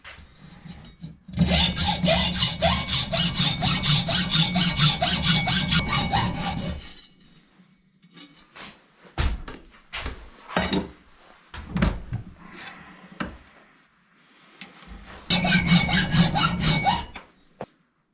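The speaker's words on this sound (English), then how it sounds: "So I'm going to get this trimmed off." A hand saw cuts through a thick silver ingot to trim off its ends, with long rhythmic rasping strokes in two loud bursts separated by quieter scraping and handling knocks.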